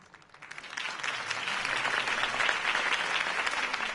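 Dense applause from a large crowd in the Batman: Telltale Series video game swells up after a quieter start and holds steady, a continuous wash of clapping.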